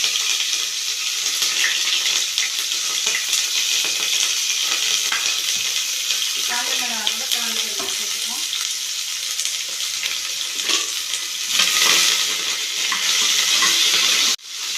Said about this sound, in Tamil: வெங்காயம் சேர்த்துப்போம் கருவேப்பிலை சேர்த்துப்போம்